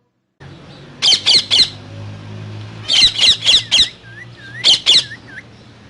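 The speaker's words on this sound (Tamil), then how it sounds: "பச்சை கிளி எப்படி ஒலி எழுப்பும்?" A green parrot, the kind carried caged through streets, gives three bursts of loud, harsh squawks, each burst two to four rapid shrieks, with short chirps between the second and third bursts.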